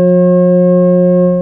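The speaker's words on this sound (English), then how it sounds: "What does a hexagon 720 sound like? Another F sharp." A steady synthesized F sharp tone plays loud and unbroken with rich stacked harmonics, held evenly for about a second and a half, representing a hexagon's 720 degrees.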